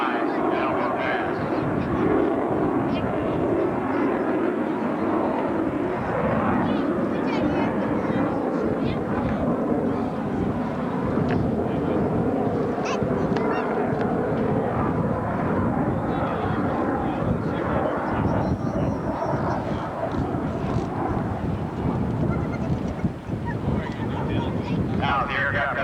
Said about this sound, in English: Now the aircraft comes back in once again.